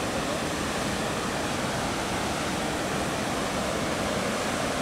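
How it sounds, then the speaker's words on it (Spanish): Water pours from the opened floodgates of the Cerro de Oro dam, also called Miguel de la Madrid, as a dense, constant roar of rushing flow that stays unchanged throughout. "abrieron las compuertas de la presa Miguel de la Madrid, conocida como Cerro de Oro, para liberar agua"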